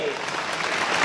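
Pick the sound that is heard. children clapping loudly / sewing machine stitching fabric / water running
children clapping loudly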